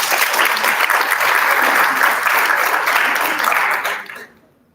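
An audience at a national adolescent health forum gives a presenter loud, dense, sustained applause that fades out abruptly at the end.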